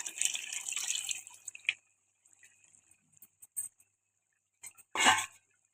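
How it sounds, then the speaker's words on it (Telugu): Water pours into a pot of sour fish pulusu, a splashing rush of about two seconds followed by a few light clinks and drips and one short, louder splash near the end. "కొంచెం వాటర్ పోస్తాను."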